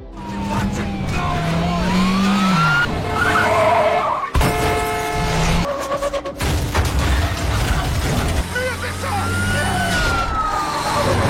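Two police cars chase a gang of robbers through a chaotic film scene, with loud screeching tires, revving engines and swooping sirens, plus dramatic music and brief crashes.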